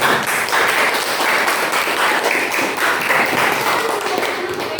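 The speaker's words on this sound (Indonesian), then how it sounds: "beri tepuk tangan dulu" Hands clapping in a classroom, a steady round of applause from students that holds at an even level throughout, with faint talk mixed in underneath.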